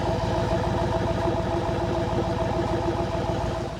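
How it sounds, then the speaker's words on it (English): A 2023 Ford F-150 regular-cab short-bed pickup idles with a steady, rumbling engine and a rhythmic low exhaust pulse, close and continuous, fading slightly at the end. "So the exhaust is subtle until you floor the whole thing."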